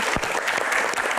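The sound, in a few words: audience applause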